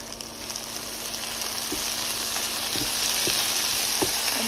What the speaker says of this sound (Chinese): 酸菜有点半熟的时候呢，我们就可以浇入刚刚盛出来的这一勺卤汁了